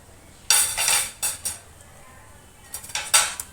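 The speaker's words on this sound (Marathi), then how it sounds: "आता ते बघा मी एक पीठ घालून घेते याच्यामध्ये आणि लगेच हलवतच राहायचं" A large spoon scrapes and clanks around a pot of water and rice flour, several bursts of close metallic stirring separated by a short quiet gap.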